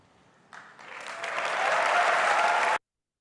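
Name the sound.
applause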